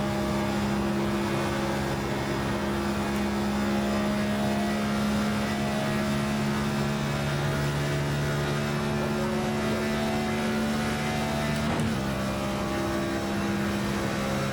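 A stock car's engine in the iRacing sim drones steadily and loudly at a near-constant pitch throughout, with a brief rise and shift around a gear or throttle change near the end, no talk.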